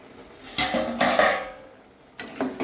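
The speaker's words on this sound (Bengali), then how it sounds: "এটা দিয়ে এখন আমি ঢাকনাটা খুলে দেখবো সিদ্ধ হয়েছে কিনা।" Metal lid lifted off a cooking pot of boiling vegetables with little water, a few clanking metallic knocks and scrapes close by, separated by brief quiet.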